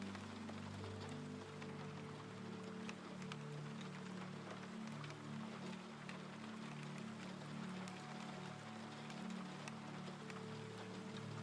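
Steady rain falls as a constant soft wash beneath a low sustained tonal drone, with no talk, forming a calm ambient bed around a dreamy clocktower chamber.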